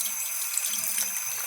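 Water runs steadily from a tap while a hand is rinsed under it, a continuous close splashing stream with no talking.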